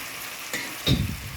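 Marinated meat hits a pan of hot oil with green and dry red chillies, a steady sizzle swelling into a brief louder hiss and spatter, with no talk.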